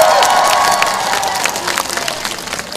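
Loud crowd applause with cheering at an outdoor political campaign rally in Uijeongbu in 2017, thick clapping at the start that gradually fades into scattered claps and crowd murmur.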